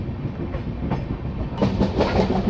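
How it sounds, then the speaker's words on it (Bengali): Interior of the Ranchi-Howrah Shatabdi Express running at moderate speed, a steady low rumble with rhythmic clickety-clack of wheels over rail joints, growing louder partway through. "এখনও পর্যন্ত ট্রেন ওই ষাট পঁয়ষট্টি স্পিডেই চলছে"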